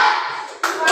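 A classroom of children claps for a group of classmates, a dense burst of applause lasting about a second with a brief dip in the middle.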